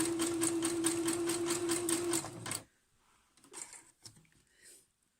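A sewing machine stitches in a fast, even rhythm for about two and a half seconds, then stops, leaving faint handling noises and quiet rustles.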